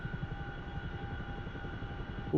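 A helicopter passes near a forward refuelling point in a combat flight simulator, its rotor making a steady, fairly close, rhythmic low chop over a constant engine hum.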